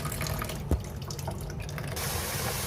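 Water from a running tap splashes into a sink during washing in a kitchen, with one sharp knock partway through and a steady flow that grows fuller near the end.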